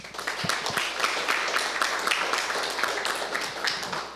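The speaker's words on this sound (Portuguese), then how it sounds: "Salva de palmas." Round of applause from an audience at the IYPT Brasil 2014 physics tournament after a team is introduced; steady dense clapping throughout, moderately loud and continuous.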